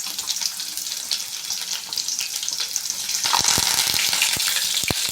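Onion, mustard seeds and cumin fry in a hot pan with a steady, close sizzle, joined by sharper crackles and pops that grow busier toward the end.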